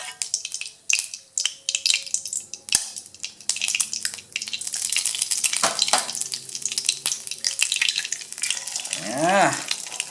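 An egg frying in a pan over a fire fed with paper fuel, sizzling and crackling steadily with scattered sharp pops and scraping stirs, close and fairly loud, with no talk.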